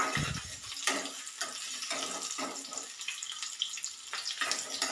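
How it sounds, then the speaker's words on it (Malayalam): Potatoes sautéing in a pan for a curry give a continuous close sizzle with soft scraping stirs at irregular intervals, no voices. "ഉരുളക്കിഴങ്ങ് ഒന്ന് ഉള്ളൊക്കെ വെന്ത് ഒന്ന് ചുവന്ന് കിട്ടുന്നത് വരെ നമുക്ക് വഴറ്റി കൊടുക്കാം"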